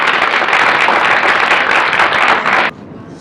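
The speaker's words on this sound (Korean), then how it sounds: "큰 박수로 다시 한번 부탁드리겠습니다." An audience at a Korean lecture on filial piety and youth issues gives loud, dense, sustained applause that cuts off abruptly near the end, leaving only faint room tone.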